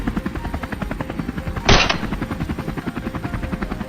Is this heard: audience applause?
no